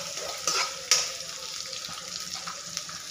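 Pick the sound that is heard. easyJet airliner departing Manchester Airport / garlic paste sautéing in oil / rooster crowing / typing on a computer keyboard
garlic paste sautéing in oil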